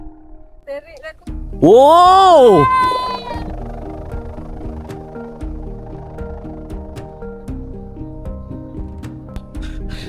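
A bamboo hummer on a flying wau kite drones steadily in strong wind at a kite gathering in Tumpat, a layered humming tone that runs through most of the clip under a loud excited exclamation and some talk.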